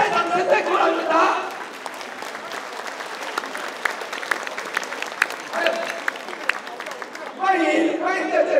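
Audience applause at a Taipei thank-you tea reception held by the hosts, bursts of clapping that swell, thin out while a speaker talks, then surge again at the end.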